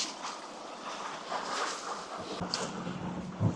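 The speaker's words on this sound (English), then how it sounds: "we got some pretty good wind here actually" Wind gusting around a small sailboat on Colvos Passage, heard as a steady broad rushing roar over the microphone, with a brief low thump near the end and no talk.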